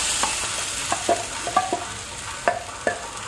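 Boiled mung dal with spices being stirred and fried in a pan, a series of irregular spoon scrapes and clinks over a low, steady sizzle, close up with no talking.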